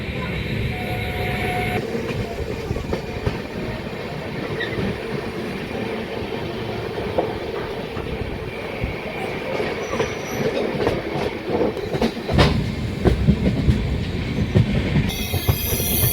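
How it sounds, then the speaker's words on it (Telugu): The Satavahana Superfast Express rumbles steadily along the rails after leaving Khammam station, wheels clattering with occasional squeals and sharp clanks, loud and continuous throughout. "మన ట్రైన్ అంతా బయలుదేరుతుంది ఖమ్మం రైల్వే స్టేషన్ నుండి"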